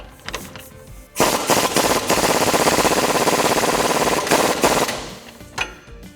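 Pneumatic impact wrench tightening the lower strut bolts on a RAM 1500 during a front leveling kit install, a loud rapid rattling hammer burst lasting about four seconds, with short brief bursts before and after.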